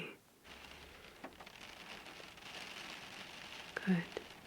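Soft rain patters in a quiet cafe setting, a faint, steady hiss of drops with occasional crinkly crackles and one brief louder patter near the end, distant and gentle.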